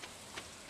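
Steady soft rain falls in the Stardew Valley farming game, a faint even patter with a few slightly brighter swells of drops, continuous and alone with no talking.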